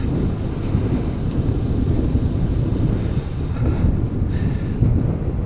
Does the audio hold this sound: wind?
yes